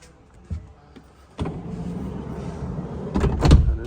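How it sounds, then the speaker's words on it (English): A van's sliding side door is opened close by, with a sharp latch clunk followed by a steady rolling slide along its track and a heavier thud as it reaches the end of travel. "And then the sliding door."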